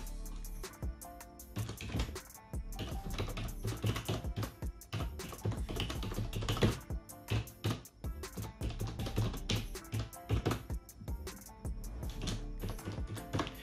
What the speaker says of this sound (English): Let's type the URL.